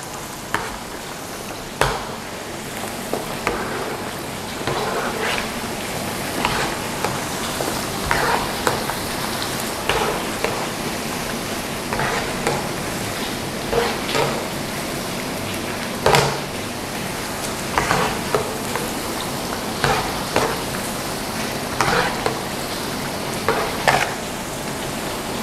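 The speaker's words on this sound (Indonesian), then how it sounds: "ini cuminya gue goreng bentar aja ya" Salted squid with green chili and petai sizzles steadily in hot oil, with regular scraping and clattering strokes as it is stirred around the pan.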